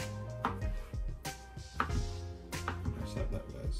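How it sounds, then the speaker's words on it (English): A knife chops papaya into cubes on a board, producing a faint, irregular run of sharp cutting knocks, close by and alone without speech. "cut them up in cubes so it's easier for your blender to blend it"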